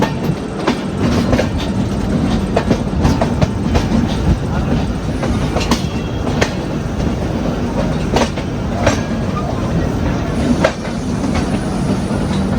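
A train pulls into Manmad Junction railway station with a loud, close rumble, steady clickety-clack of wheels over rail joints and occasional sharp squeals throughout.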